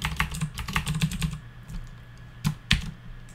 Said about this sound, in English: I'm going to go ahead and type equals if error